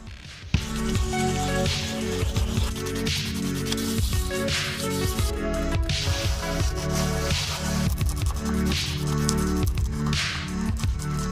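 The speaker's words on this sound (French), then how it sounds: "on va directement poncer avec un grain assez fin" A GoPro housing is wet-sanded by hand with a small square of fine-grit sandpaper and a little water, giving repeated close, rhythmic squishy rasping strokes throughout.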